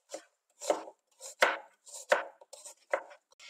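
A knife chops onions on a cutting board, giving about eight crisp, uneven chops close to the microphone with short pauses between them and no talking.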